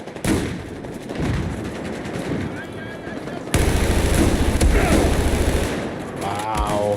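Gunfire in the online shooter Battlefield 4: rapid bursts of automatic fire and heavier booming shots, loud and continuous, with a player's voice talking over the combat.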